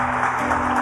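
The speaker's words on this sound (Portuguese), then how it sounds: "aplauda o Senhor." Church congregation applauding during a worship service, a continuous dense wash of clapping with a steady low hum beneath, loud and close throughout.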